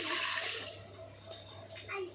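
Rice-washing water pours in a brief splashing rush into a pot of country chicken curry with ground spices, loud at first then trickling off, close up.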